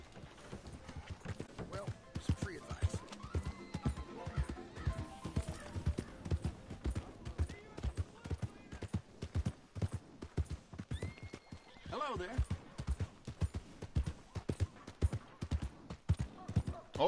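Horse hooves clip-clop in a steady walking rhythm in Red Dead Redemption 2 on PS4 Pro, with a whinny rising partway through while someone talks over the game sounds.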